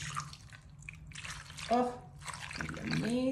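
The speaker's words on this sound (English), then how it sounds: "Just pour it all over those potatoes and the ranch." Canned beef broth pours and splashes over potatoes and ranch seasoning in a steady liquid trickle, with a voice speaking over it.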